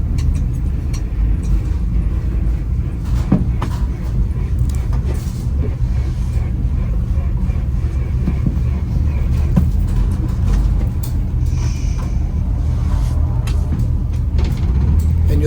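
A 1964 Chevrolet Corvair 95 Rampside with a four-speed manual cruises along the road, its engine holding a steady, loud low rumble with road noise throughout and no talking.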